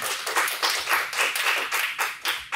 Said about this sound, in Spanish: Un aplauso y un aplauso.